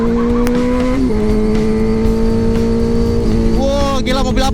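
A Porsche Cayman drives past, giving a loud, steady engine drone throughout that rises in pitch toward the end as it goes by.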